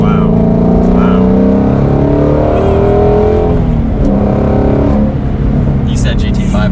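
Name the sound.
Shelby GT350 Mustang engine driving through a turn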